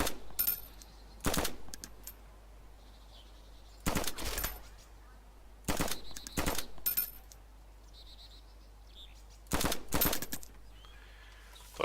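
Rapid bursts of gunfire crackle in short volleys, four or five separate clusters, with quieter ambient noise between them, in the video game DayZ.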